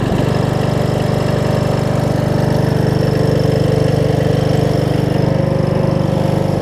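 An old Craftsman riding mower engine idles steadily after restarting, giving a loud, close, even rumble with a rapid regular pulse and no break.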